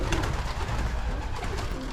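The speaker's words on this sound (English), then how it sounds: "He's just a common, pigeon, and he is just inflated like a balloon." A common pigeon coos in a soft, continuous low murmur, heard up close amid a steady background of other birds and noise at an Amish animal auction.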